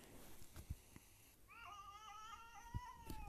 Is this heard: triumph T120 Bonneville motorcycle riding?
no